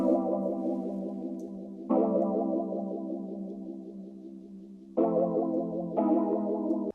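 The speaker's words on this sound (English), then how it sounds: "And this is the Wurlitzer 200A Retro Phaser" Wurlitzer 200A electric piano with a retro phaser and added chorus, sustained chords held in four swelling blocks, warm and wobbling with stereo shimmer, no voices.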